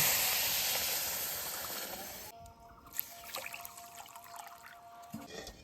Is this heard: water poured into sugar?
yes